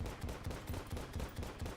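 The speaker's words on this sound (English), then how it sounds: "Phoenix Blaster with Exploding Bullets will" Phoenix Blaster firing exploding bullets in a video game: a rapid, steady stream of punchy shots with popping blasts, about eight evenly spaced bursts, close and loud with no talk.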